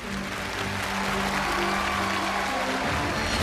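Steady audience applause fills a television studio as a referee is welcomed on stage, a dense sustained clapping that carries on evenly for several seconds with no talk over it.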